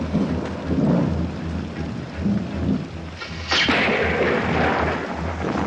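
Heavy rain pouring steadily with a loud rumble of thunder rolling through partway, no voices.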